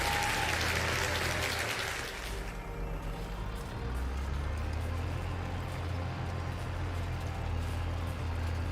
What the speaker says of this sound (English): So a round of applause for Bandit.